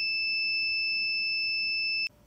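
A JMC iHSV57 servo drive sounds its alarm during a force-gauge test: one steady, high electronic beep holds for about two seconds, then cuts off sharply, leaving faint background hum.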